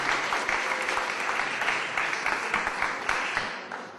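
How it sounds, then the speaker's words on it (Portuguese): An audience gives a big round of applause at a Portuguese talk, dense steady clapping filling the room for several seconds and tapering slightly toward the end. "eu para já gostava era de lhes dar a ele um grande aplauso"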